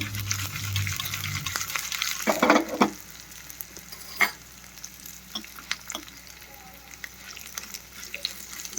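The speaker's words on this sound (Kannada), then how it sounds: "ಉದ್ದಿನಬೇಳೆ ಕೂಡ ಸ್ವಲ್ಪ ಫ್ರೈ ಆಗಬೇಕು." Steady sizzling of green chillies and urad dal frying in oil in a pan on a home stove, with a brief louder clatter of stirring early on and small scrapes throughout.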